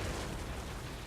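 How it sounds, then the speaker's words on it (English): A grenade blast in the horror game The Evil Within, a short, dense, full-range roar that fills the whole moment and is heard alone. "We're gonna throw the grenade."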